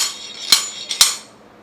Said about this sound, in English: just keep this slotted hammer and backstab the nail.